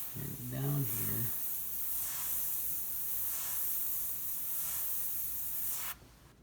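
An airbrush sprays paint with a steady, close, continuous hiss, spraying only small amounts at a time. A person speaks briefly near the start, and the hiss cuts off abruptly near the end.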